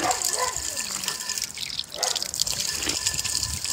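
Water pours steadily from a mosque fountain tap, a close, continuous splashing gush with a person speaking over it at times.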